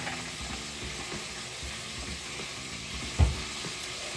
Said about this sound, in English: I'm going to mix this around for a bit